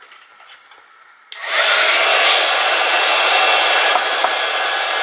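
A heat gun warms embossing powder: after a quiet start it switches on with a sudden steady roaring blow that stays loud and constant to the end, with no speech.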